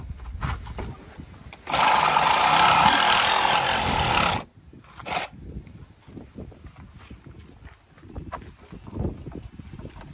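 Saw cutting through the metal frame of a school bus during a conversion, a loud harsh grinding burst of about three seconds, a short second cut, then quieter scraping and knocking.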